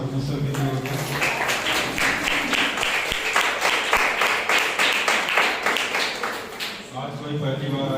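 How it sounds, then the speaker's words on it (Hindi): A church congregation at a Sunday service claps loudly and rhythmically in unison for several seconds, a dense steady patter of hands, with a voice speaking before and after the applause. "आइए हम जोरदार तालियां उस परमेश्वर के लिए होते हैं।"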